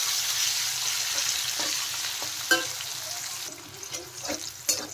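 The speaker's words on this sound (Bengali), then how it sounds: "নুন হলুদ দিয়ে করলা ভালো করে ভেজে নেব।" Bitter gourd fries in hot oil with salt and turmeric, a steady close sizzle with occasional scrapes and clinks of a spatula stirring the pan.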